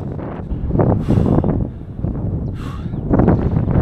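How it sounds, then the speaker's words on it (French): Strong headwind buffets a cyclist's microphone during a long mountain climb, a loud, close, gusty low roar that swells and eases in uneven surges without speech. "J'ai un vent de face aujourd'hui, terrible"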